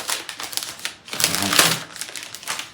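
Plastic wrap is pulled off a new Apple keyboard, a close crinkling and rustling in bursts, with a louder stretched tear in the middle.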